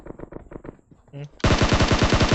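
Rapid automatic gunfire from PUBG Mobile, a battle royale shooter, bursts out loud and steady after a few quieter spaced shots, with a brief voice in between.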